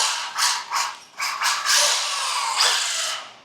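Mini RC buggy with a tight gear mesh driving, giving a steady high-pitched mechanical whine and gear rattle that surges and dips with throttle bursts, close and fairly loud, with no talking.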